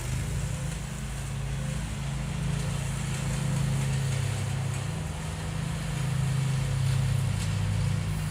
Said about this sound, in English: Wish this guy wasn't mowing while I was trying to do a live stream here because he's loud.